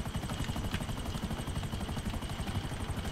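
A Buzzard helicopter in GTA 5 Online flies with a continuous, even rotor chop and engine drone, steady and fairly close, with no talking.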